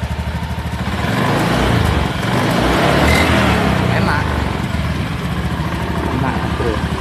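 A Honda Beat scooter engine, struggling on uphill climbs, rumbles close by and is revved up in a few swells, with a voice speaking over the noise.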